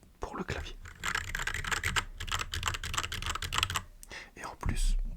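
Dense, steady typing on a small portable computer keyboard with a metallic ring, heard up close with hardly a break, ending in a soft thump.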